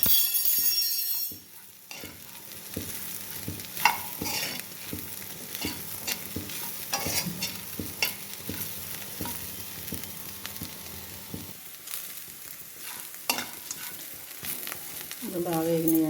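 Bitter gourd (kaakarakaya) slices sizzle steadily in a hot frying pan while a spoon scrapes and stirs them in repeated soft strokes, close by and moderately loud, with no talking.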